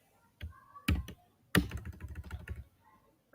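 Computer keyboard being typed on while entering HTML in Notepad: a few close, sharp key taps followed by a quick burst of clattering keystrokes.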